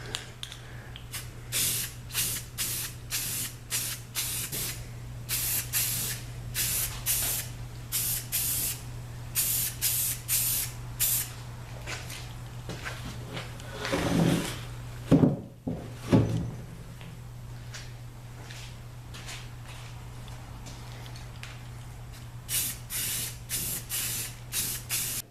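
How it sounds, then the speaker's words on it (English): Short hissing bursts of metallic silver Rust-Oleum spray paint hit an old mini bike's parts, close and fairly loud in quick repeated pulses, with a brief clunk and pause midway before the spraying resumes over a low background hum. "I'm going to hit them with a little bit of metallic silver Rust-Oleum"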